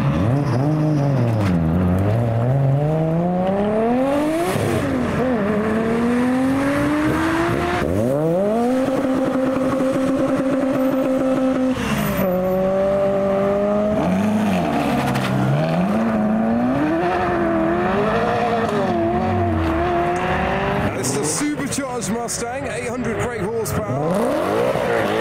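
Modified cars and supercars, including a Honda Prelude and an R32 GTR, accelerate hard past the roadside, engines rising and falling in pitch as each passes, with loud revving gearshifts and a brief burst of crackle near the end.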